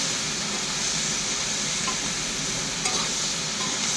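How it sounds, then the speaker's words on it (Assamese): Vegetables for a potato and ridge gourd curry sizzle steadily in hot oil while being stirred, a dense, continuous frying hiss with occasional scraping of the spoon, close and without talk. "হিলাই দি আছোঁ মই ধুনীয়াকৈ ফ্ৰাই কৰি লওঁ।"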